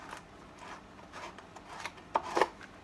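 A hand body reamer works holes into a polycarbonate RC car body, giving soft scraping twists followed by a couple of sharper, louder rasping cuts near the end, close up with no talk.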